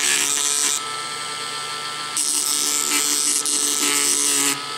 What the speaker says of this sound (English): using the Dremel and the sander, I'm just going to sand this a little bit here